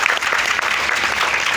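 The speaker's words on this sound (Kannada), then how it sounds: "ಅದಕ್ಕೆ ಇನ್ನೊಂದು ಚಪ್ಪಾಳೆ ಬರಬೇಕು" A seated audience at a local gathering in Tiptur claps steadily in a dense wash of applause, with no break for its whole length.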